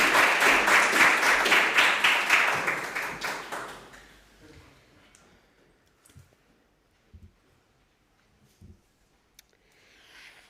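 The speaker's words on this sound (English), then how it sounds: "an applause for her" Loud applause from the audience at a rural startup pitch competition welcoming a cultural project onto the stage, strong for about four seconds and then fading into scattered light taps and near silence.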